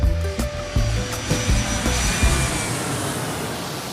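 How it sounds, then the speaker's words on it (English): A sound effect of an airplane taking off: a loud, close jet engine roar swells and holds steady with a whining high tone layered over a deep rumble, and no talking. "part 2 of Marie-Cécile's round trip story gets ready for takeoff"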